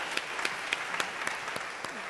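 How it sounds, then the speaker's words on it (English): An audience at an evening event applauds together in a brief, steady burst of clapping heard from the middle distance. "Another round of applause, please, for Maddy."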